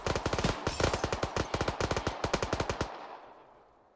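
Automatic gunfire in the military game Arma 3, a rapid burst of sharp, loud reports in steady rhythm with brief pauses, ending abruptly in a fading echo tail.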